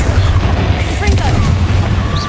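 Confringo fire spell explosions in Hogwarts Legacy keep up a low booming rumble, loud and continuous, with a voice talking over them.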